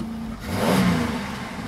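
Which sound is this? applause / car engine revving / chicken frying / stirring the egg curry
car engine revving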